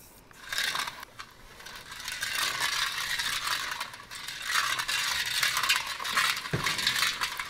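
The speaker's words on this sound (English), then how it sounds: "So you just want to mix in your sorrel until you feel all your sugar grains melt away" A spoon stirring sugar into homemade sorrel drink, a continuous scraping, rattling swirl with light clinks against the container, fairly close and moderately loud, no voices.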